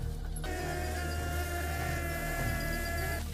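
A wild honey bee colony in a tree hums as a dense, steady buzzing drone, with individual bees whining past up close, continuous and fairly loud throughout, with no voices.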